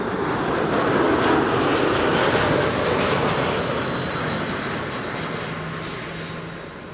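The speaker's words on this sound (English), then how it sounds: "You can hear engine number 2 starting." An Air Baltic Airbus A220-300 (C-Series 300) jet engine spins up at Amsterdam Schiphol Airport, a loud steady roar with a rising whine that holds continuously and fades slightly toward the end.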